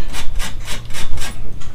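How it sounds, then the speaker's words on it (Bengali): Lemon skin is rubbed hard against a rough surface to make Bengali lemon pickle. It gives rhythmic rasping strokes, about six back-and-forth scrapes in under two seconds, loud and close with no talk. "জারক বানাতে গেলে এরমভাবে লেবুর গাটা ঘষে নিতে হবে।"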